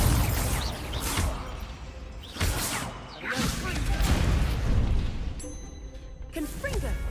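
Repeated Confringo spell blasts in a Harry Potter-style video game, booming impacts landing every second or so with a voice talking between them.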